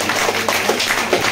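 A seated audience claps steadily and densely for a new member welcomed at a club celebration, a short, loud, even burst of applause.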